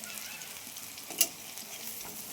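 Broccoli fritters fry in a pan with a soft, even sizzle of hot oil, and a sharp utensil clink cuts through once midway. No one speaks.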